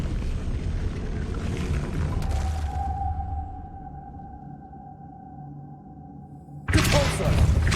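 Revelio spell effect in the video game Hogwarts Legacy: a whooshing burst fades into a sustained ringing tone that hangs for several seconds before another bright swell of sound.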